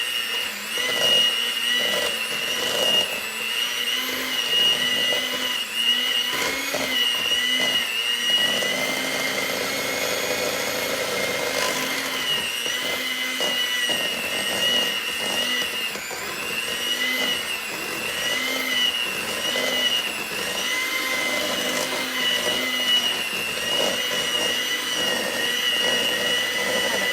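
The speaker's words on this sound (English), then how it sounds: "So now we just mix it with the mixer." An electric mixer whirs loudly and continuously through vegan gluten-free pumpkin muffin batter, its motor pitch wavering slightly as it churns, with no talking.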